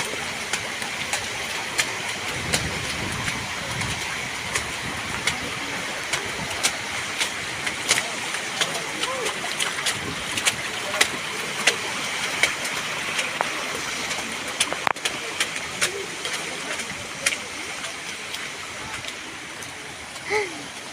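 Heavy, continuous rain pours down during a monsoon trek to Raigad fort in Maharashtra, a steady loud hiss with scattered sharp drips and splashes close by, with no talk over it.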